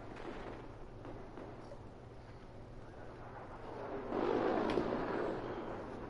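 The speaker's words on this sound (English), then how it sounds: "All that gunfire going off." Distant gunfire and explosions in the Battlefield 4 video game rumble as a steady low battlefield din, swelling into a louder burst of blasts near the end.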